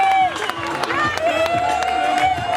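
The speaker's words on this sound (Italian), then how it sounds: "ancora un applauso per loro, grandi ragazzi" An audience claps and cheers after a band's set at the Poetto Fest open-air concert in Cagliari, with sustained applause and crowd noise under a voice on the microphone.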